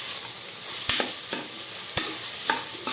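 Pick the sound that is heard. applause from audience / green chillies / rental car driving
green chillies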